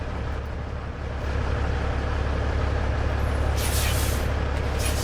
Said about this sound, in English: Put on our parking brakes so that we can let go of these trailers